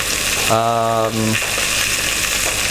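Beef tails browning in a hot pan give off a steady loud sizzle throughout, with a short voice speaking over the frying midway.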